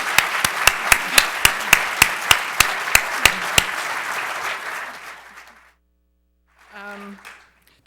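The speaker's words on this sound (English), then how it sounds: "I think everybody should give them a big applause" An audience at a German conference closing at Harvard breaks into applause, opening with a run of sharp, evenly spaced loud claps over a dense wash of clapping that fades out, followed by a short voice.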